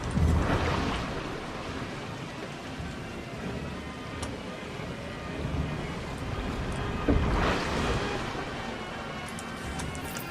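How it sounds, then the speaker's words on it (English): Medium water jet fountains spray in a Planet Coaster theme park scene, a steady rushing hiss with two swelling bursts of spray, heard without talk over a low ambient bed. "And water jets. I'm gonna have water jet medium here."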